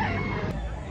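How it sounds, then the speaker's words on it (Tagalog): A one-year-old fighting cock crows at a seller's place in Lipa City, Batangas, a loud strained call close by over outdoor background noise, cut short within a second. "Guwapong manok."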